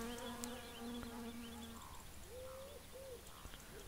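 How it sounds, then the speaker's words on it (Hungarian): Flies in My Summer Car drone with a steady, close buzz that runs throughout, with soft bird coos and chirps in the background and no talking. "Ezek a legyek, bazze, mennyire csiporognak."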